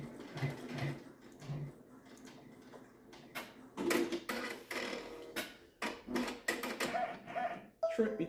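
A multineedle embroidery machine tack-stitches a potholder, producing quick mechanical ticking and clattering bursts that start and stop in short runs, while a person talks alongside.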